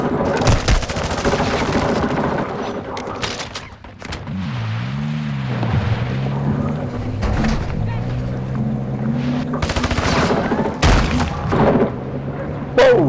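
Gunfire in the shooter game Call of Duty: DMZ, loud sharp shots in bursts at the start and again near the end, set against a droning in-game engine hum.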